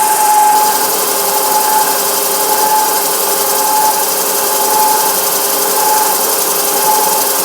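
A vertical slotter cuts metal with coolant applied, giving a steady, loud mechanical drone with a faint whine that holds evenly throughout, with no voices.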